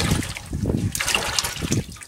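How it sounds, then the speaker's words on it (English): Water splashes and trickles over freshly dug, forked root vegetables being rinsed of soil outdoors in a garden, a close, uneven run of gushing pours and dribbles without any talking. "Give them a rinse, get the majority of the dirt off."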